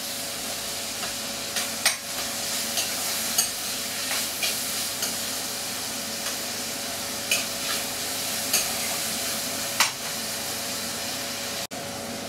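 Tomatoes stirred and frying in a pan for a masaura vegetable curry, a continuous close sizzle with occasional spatula scrapes and taps against the pan, steady throughout with no talking.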